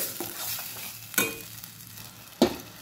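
Masala for paneer matar sautéing in a pan, with a steady close sizzle and two sharp scraping clacks from a spoon against the pan as it is stirred, without any talk.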